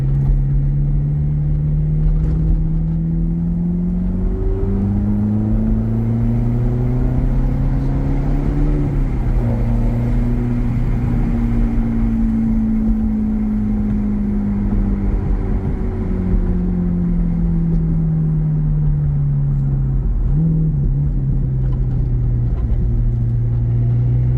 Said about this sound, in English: Let the car do its own shifting.